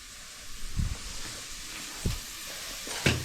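Onion fries in a small amount of oil for mutton biryani, with a steady close hiss and sizzle broken by a few soft stirring knocks.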